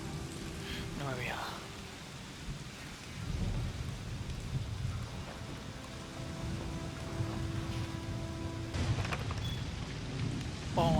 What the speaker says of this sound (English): Oh, I just realized I can record the rain.